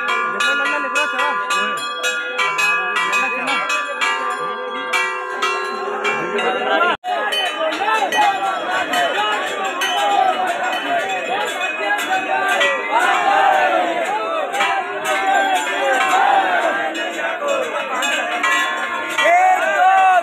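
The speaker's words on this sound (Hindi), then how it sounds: "बहुत ज्यादा भीड़ है भाई" A large, packed crowd of pilgrims murmurs and calls out at the hilltop Purnagiri Dham temple while bells clang and ring repeatedly nearby, with the busy din continuing throughout.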